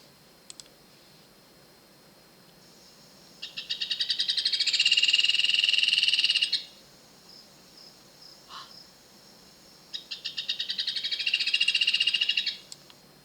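Two loud bursts of fast, high-pitched red ovenbird calls, a shrill rattling chatter, separated by a short quiet gap with a few faint chirps.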